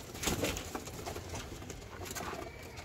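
Pigeons coo softly in repeated low, throaty calls, close by, over a steady background murmur with no one speaking.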